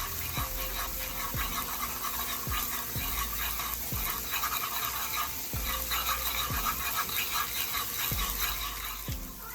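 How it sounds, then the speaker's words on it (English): Scraping, stirring strokes of a spoon in a pan as flour is worked into a creamy garlic sauce, soft and repeated at an irregular pace over a faint background sizzle. "you want to begin to stir so that flour doesn't clump up"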